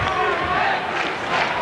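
Loud crowd roars and cheers at a men's college basketball game, UConn at Rutgers, a dense sustained wall of arena noise with swelling peaks throughout.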